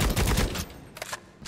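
Rapid gunfire from the video game Necromunda: Hired Gun rattles off in a dense close burst, then a few more scattered shots after a short pause.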